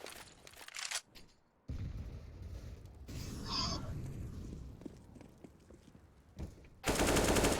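Rapid bursts of gunfire from an esports match of a tactical shooter, with sharp automatic fire and single shots, separated by brief quieter gaps and ending in a loud burst.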